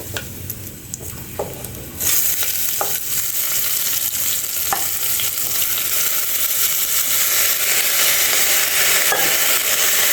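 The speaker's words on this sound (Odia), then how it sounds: "ଏବେ ଆକୁ କିଛି ଟାଇମ୍ ଭାଜିବା ଘିଅରେ ଚାଉଳକୁ।" Rice frying in ghee, with raisins in the pan, for an Odia mung dal khichdi: a loud, steady sizzle starts abruptly and continues, broken by a few light clinks of stirring.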